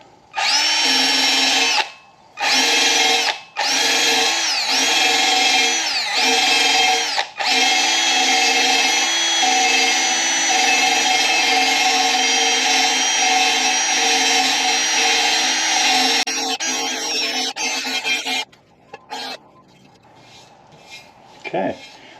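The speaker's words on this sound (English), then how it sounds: "So I'm just using a brass wire wheel on a drill." A brass wire wheel spun by a drill while cleaning a Mercedes CL55 AMG wheel, a loud close whirring scrub in several short bursts, then a long sustained run before it winds down near the end.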